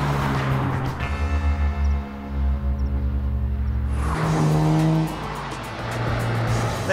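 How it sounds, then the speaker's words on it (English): A Mazda RX-7 with a Wankel rotary engine revs loudly and close, rising and falling through gear changes with a brief tire squeal, its buzzy engine note dropping away then surging again. "Look at the way this car drives!"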